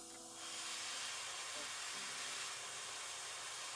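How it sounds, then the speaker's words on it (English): An airbrush sprays paint onto a miniature Orc champion figure, giving a soft continuous airy hiss that starts after a brief pause and holds steady, quiet and close. "when you airbrush, you can bring the airbrush back"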